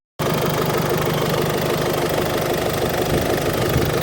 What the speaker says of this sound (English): Stainless turbo back exhaust system. And it sounds like that.